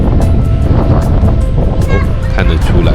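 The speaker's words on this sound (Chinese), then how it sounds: "就在岩场旁边听听海浪声" Sea waves washing against the rocks at Enoshima in winter, a loud continuous churning wash with wind buffeting the microphone close up.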